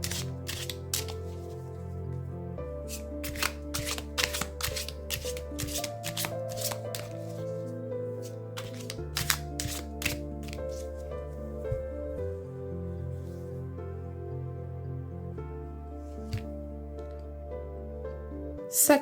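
Oracle cards shuffled for a numerology card reading, giving a run of crisp rapid riffling clicks in uneven bursts over a steady low background hum, close and fairly soft.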